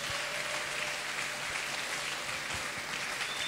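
A church crowd applauding Papa Franck, a doctor, with dense, steady clapping that fills the whole stretch at an even loudness, sounding close and continuous with no voices over it.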